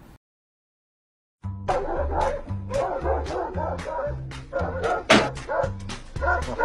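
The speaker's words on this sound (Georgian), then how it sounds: "გურული ძაღლი, მეგრელი ძაღლი." Several dogs bark and yip in rapid, loud, close bursts that start after a second of silence and continue without pause to the end.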